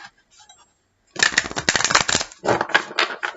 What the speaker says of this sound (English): I'm going to give the deck one final shuffle.